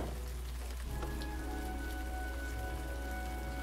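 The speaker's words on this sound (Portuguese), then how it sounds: "tá chovendo só pra variar um pouco" Steady rain pattering in the video game Heavy Rain Remastered, a continuous even wash of drops with a faint tonal hum beneath and no talk.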